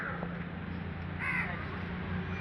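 A single crow caws once over a low steady background hum.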